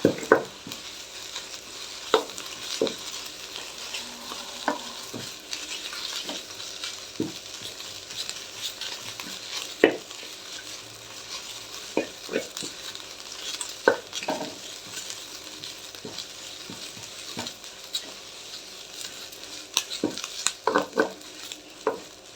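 Curry leaves crackle softly as they dry-roast in a pan, with a steady faint sizzle broken by scattered scraping clicks from a stirring spoon, close by and with no voices.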